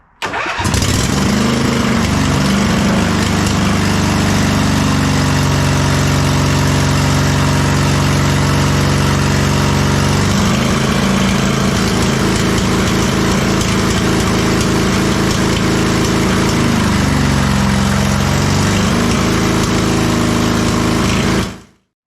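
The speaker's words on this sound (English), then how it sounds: "So now we're going to fire it up with both spark plugs attached." A 2005 Husqvarna YTH2448 ride-on lawn mower engine fires up and runs close and loud for about twenty seconds, a steady mid-pitched chug that dips in speed twice before it cuts off at the end.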